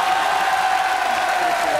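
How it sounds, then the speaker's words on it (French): A studio audience on the French TV show Nulle Part Ailleurs claps steadily in a sustained, even wash of applause, loud and unbroken throughout. "ils ont vraiment mérité des applaudissements"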